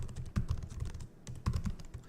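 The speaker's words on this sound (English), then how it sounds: "So I'm just going to start typing this out" Fast, continuous typing on a computer keyboard, close and fairly quiet, with irregular clusters of light key clicks and brief pauses between bursts.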